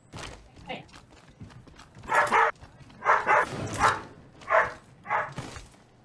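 A dog barks in repeated short, loud bursts at close range in an Apex Legends-style game match featuring Rampart, with brief gaps between barks and faint background noise.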